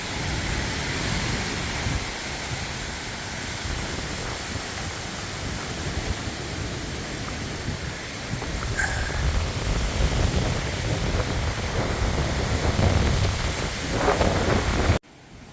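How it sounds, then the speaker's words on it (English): Strong gusty wind roars steadily across a mountain trail near Chimney Rock, buffeting the microphone in a dense, continuous rush that swells louder partway through, with no voices present. "It's a little windy up here."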